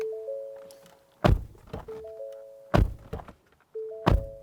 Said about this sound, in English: Now, this is what our door slam sounds like.